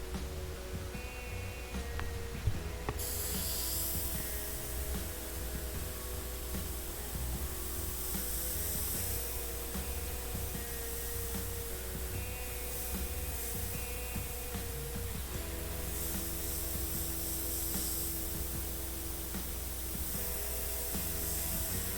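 Airbrush spraying paint on a commissioned piece, a steady continuous hiss with a faint background hum running unbroken throughout, no talking.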